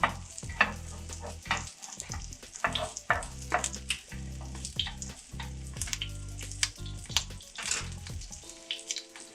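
Metal spatulas scrape and pat okonomiyaki batter into a pancake on a hot griddle, Osaka style: a string of sharp, close clacks and scrapes over a continuous sizzle.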